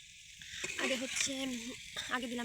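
Tengra fish and potatoes sautéing in a pan give off a steady, close sizzle that runs the whole way through, with a voice talking over it.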